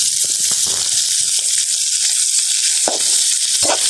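Steady, loud sizzling and crackling of boiled prawns frying in hot oil, with occasional bubbling pops over the continuous hiss.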